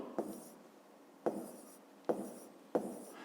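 A pen scratches out a maths solution on paper, four short distinct strokes spaced unevenly over a few seconds, quiet and close in a still room with no talking.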